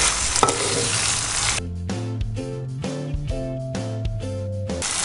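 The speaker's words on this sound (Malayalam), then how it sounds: "നന്നായിട്ട് ഉലത്തി നമുക്ക് എടുക്കാം." Chinese potatoes (koorka) in masala sizzle and fry in a pan as they are stir-fried, a loud continuous hiss broken into repeated bursts with brief gaps between, close and alone without voices.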